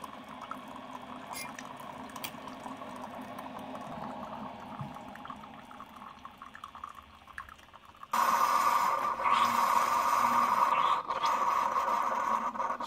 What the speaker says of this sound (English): It sounds like the pump is running like slower. So the water just kind of comes out slower.